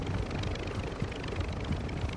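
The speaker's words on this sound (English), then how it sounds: "Oh, chopper, chopper, chopper, chopper, chopper." In a video game, a helicopter's rotor pounds in a dense, steady low thrum with faint rhythmic beating, filling the scene without any talk.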